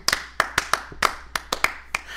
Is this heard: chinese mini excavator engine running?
no